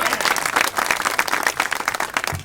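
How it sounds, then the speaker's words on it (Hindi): Audience at a Hindi poetry gathering in Hathras breaks into vigorous applause honouring a poet, fast dense hand clapping with sharp individual claps, loud and close, rising and falling slightly throughout. "एक बार जोरदार तालियों से बजाएं।"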